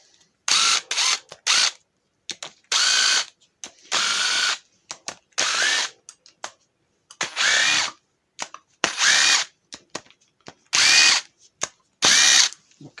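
Power ratchet undoing the rocker cover bolts on a ZX600E motorcycle engine, giving a series of short loud whirring bursts with brief silences between them, close up.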